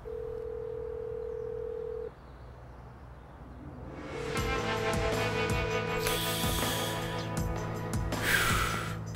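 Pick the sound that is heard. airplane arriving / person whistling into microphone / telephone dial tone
telephone dial tone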